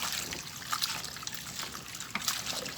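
Freshly picked greens are washed under running water, with a continuous trickle and splash and small sloshing bursts as the leaves are gently squeezed, close by with no talking.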